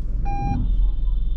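A car's reversing alarm during a parking practice session gives one short, clear beep, then a thin steady tone over low engine rumble.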